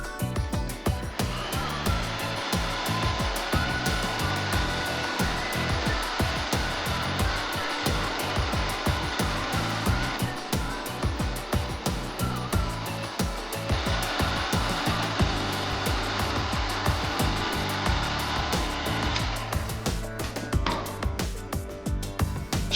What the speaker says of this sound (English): Then, use a heat gun to shrink the tubing.